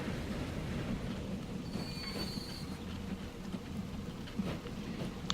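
Cheapest starter locomotive hauling a basic wagon in Transport Fever's Wild West America setting, a steady low rumble of wheels on rails with brief high squeals, continuous and moderately close, no voices.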